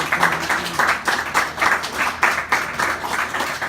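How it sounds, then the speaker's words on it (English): A meeting audience of the Willow Run Tea Party Caucus applauds the speaker's wife, dense sustained clapping from many hands with a few louder swells, close and steady throughout. "would you give my dear wife a round of applause?"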